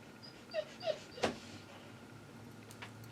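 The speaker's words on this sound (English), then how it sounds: "Oh, I better go let my puppy in." A puppy waiting outside a house door gives three short, close whimpers in quick succession, then falls quiet with one faint whine near the end.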